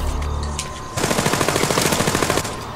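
Rapid automatic gunfire rattles in a tight, evenly spaced burst of about a dozen loud shots during a Splinter Cell Spies vs Mercs match, after a stretch of game noise.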